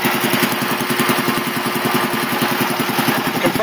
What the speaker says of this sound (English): Compressor by no means is loud.